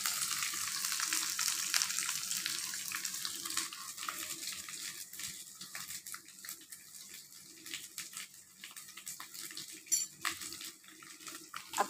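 Garlic paste and onions frying in a pan, a steady soft sizzle with a few utensil clinks, fairly quiet and with no talk.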